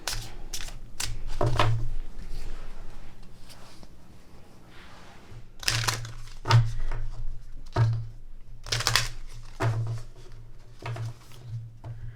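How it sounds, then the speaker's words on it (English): Oracle cards are side-shuffled by hand in several quick bursts, crisp riffling flutters separated by short pauses, close and fairly quiet. "this one is short enough that I can grab it for a side shuffle"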